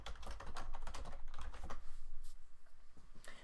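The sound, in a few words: typing on a computer keyboard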